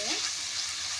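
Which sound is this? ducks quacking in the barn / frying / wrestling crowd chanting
frying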